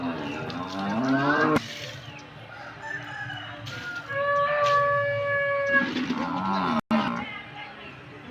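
A cow moos in a village during Pongal, with several drawn-out lowing calls, a rooster crowing in the mix, and people talking nearby.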